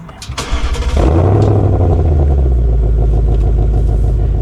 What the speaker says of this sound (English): It's always pleasant to start up a 5-liter V8 engine a la Mustang